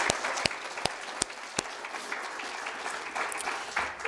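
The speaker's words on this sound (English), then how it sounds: "we can applaud a little bit, it'll be fine" An audience applauds a team thanked for serving at a dinner, a steady bed of crowd clapping with a few sharp, louder claps standing out near the front, no talk.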